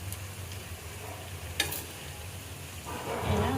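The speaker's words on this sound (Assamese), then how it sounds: "ৰঙা ৰঙাকৈ ভাজি ল'ম মই গোটেইখিনি ধুনীয়াকৈ" Bread slices frying in a pan for a sweet toast dessert, a soft continuous sizzle with light stirring and scraping, one brief sharp clatter midway and a busier burst of frying near the end, no talking.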